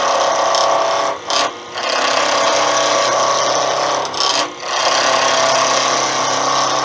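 A loud, constant mechanical whir and rasp of a wood lathe at about 2,000 rpm turning a hardwood pen blank, briefly easing twice before resuming its steady grind.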